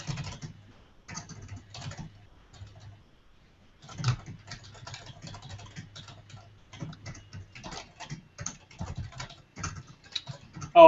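Keys clatter on a computer keyboard in irregular bursts of close, crisp taps, with short pauses between runs of typing.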